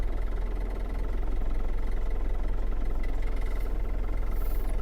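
An MTZ tractor engine runs at a steady idle, a close, loud low rumble with a rapid rhythmic chug and no talking.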